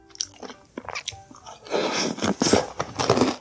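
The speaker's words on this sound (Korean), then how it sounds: "이건 살짝 작은 사이즈 얼음 씹는 느낌이라 그래야 되나?" Homemade caramel popcorn bingsu, shaved ice with marshmallow and caramel-coated popcorn, crunched up close in sharp bites followed by steady, loud chewing, with no talk.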